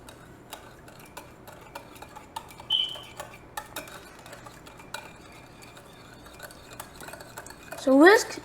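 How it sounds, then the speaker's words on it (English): Eggless chocolate chip muffin batter with vanilla extract is whisked in a bowl, giving a steady series of light, rhythmic ticking taps close by, with a brief clatter partway through and a short voiced sound near the end. "once you've added your vanilla extract, you can whisk them together"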